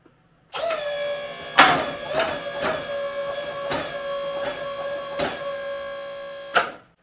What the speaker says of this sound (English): Now we're just going to take the slack out of the machine, so put tension on the tube.